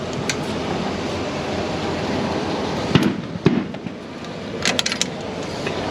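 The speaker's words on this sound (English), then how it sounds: "Sorry about the fireworks, pal." Fireworks crackle and pop from a distance around a van parked outdoors, with a steady background roar and a few sharper bangs standing out in the middle and near the end.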